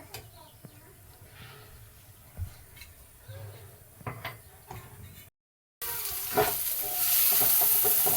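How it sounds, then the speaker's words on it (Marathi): Chopped onions sauté in hot oil in a kadhai for goat brain fry, a soft sizzle with light stirring clinks that swells into a much louder, steady frying hiss toward the end. "कांदा मस्त व्यवस्थित परतून घ्यायचं"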